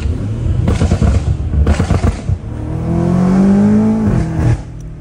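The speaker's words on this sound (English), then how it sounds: "I could definitely hear it trying to suck air," A BMW M5 Competition F90 fitted with new intakes revs hard, with loud, close engine roars, sharp intake and exhaust pops, and a rising, sustained whine through the middle before it falls away.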